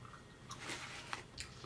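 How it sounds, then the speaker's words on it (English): Someone chews Levi Garrett chewing tobacco close to the mic, giving soft wet mouth sounds and small crunchy clicks in an irregular rhythm over a steady background hiss. "Sitting here chewing on some"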